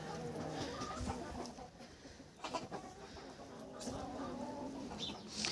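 Cochin chickens cluck and murmur steadily close by, a busy, continuous flock chatter with occasional sharper calls rising above it.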